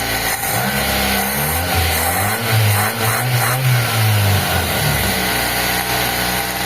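A Nissan Sentra carbureted engine, flooding with fuel from an overflowing carburetor, runs close and loud, rising into a rev and easing back to a rough, uneven idle.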